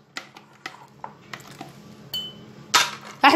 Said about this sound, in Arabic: انا نخفق